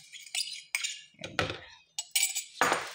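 Metal utensils clinking against a container while ice candy mixture is stirred, a series of bright separate clinks and scrapes in an irregular rhythm, close and fairly loud, with no talking.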